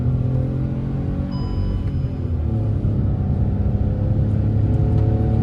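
A Hyundai i20 N Line with the iMT gearbox, engine humming and rising in pitch as it revs through a gear change, a steady close rumble from inside the cabin.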